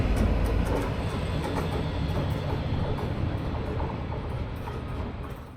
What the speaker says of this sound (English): here we say goodbye to our diesel Vectron that will now head off to a nearby siding